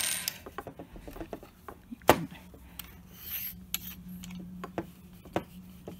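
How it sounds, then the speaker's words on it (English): An Allen wrench loosening a field tripod leg clamp makes small close clicks, scrapes and metallic ratcheting taps, with one sharper knock near the middle, quiet and without speech. "wrench and get it in here and loosen it"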